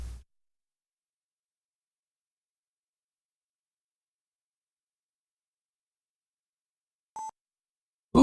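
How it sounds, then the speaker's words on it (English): A single short electronic tone from an 8-bit computer running a BASIC battle test program sounds once, faint and clean, in near silence, bracketed by brief bits of noise at the start and end. "Ooh, and it beeps."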